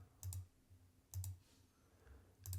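Computer keys are pressed three times, sharp soft clicks spaced about a second apart at low level in a quiet room.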